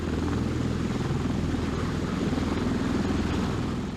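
Twin engines of a Japanese V-22 Osprey tiltrotor whine steadily during pre-flight with rotors vertical, a loud continuous drone with pulsing low rotor beat as the rotors spin up, no voices.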